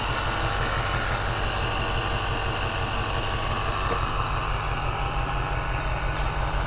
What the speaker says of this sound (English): It's idling pretty smooth.